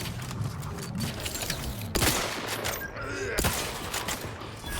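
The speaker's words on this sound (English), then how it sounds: "Fucking snot grenade, what was that?" Snot grenade going off in The Outer Worlds, heard as a sharp booming burst amid loud, dense combat noise with repeated gunfire-like cracks and a second thump a little later.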